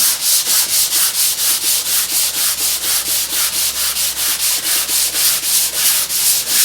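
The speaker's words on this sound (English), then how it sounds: "all I have to do is hit it with a sanding block, really" Hand sanding a wooden bombe secretary lid with a sanding block and 150-grit sandpaper: close, steady back-and-forth rasping strokes at about three per second, evenly paced and continuous with no talking.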